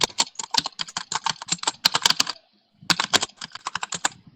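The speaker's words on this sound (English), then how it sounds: "Can you turn off the typing sound?" Rapid computer keyboard typing, close and crisp, in dense bursts of clicking keystrokes with a brief pause in the middle before resuming.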